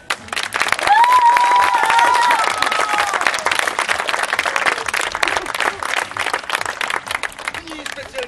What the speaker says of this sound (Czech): Speciální potlesk pro naše hosty, bohemnické ženice.